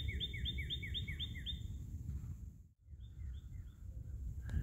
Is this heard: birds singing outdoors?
yes